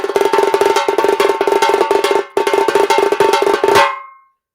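A loud, dense tassa drum roll of rapid ringing strokes, briefly interrupted once, then resuming before stopping abruptly.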